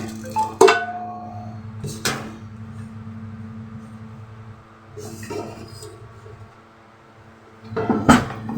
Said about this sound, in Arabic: طب ماشي هجرب كده نغطي بحله